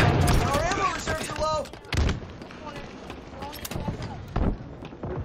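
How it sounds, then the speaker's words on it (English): Rapid gunfire and explosive booms from a small rocket gun in a shooter video game set in an abandoned city, loud and continuous, with voices talking over the action. "I like that little rocket gun."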